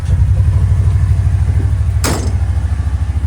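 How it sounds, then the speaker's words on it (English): A 2023 Kawasaki on its factory exhaust cranks and fires up, settling into a loud, steady, low throbbing engine pulse heard close with no talk, with one brief sharp click partway through. "I'm going to go ahead and crank it just for the factory sound, just to make sure we know what that is."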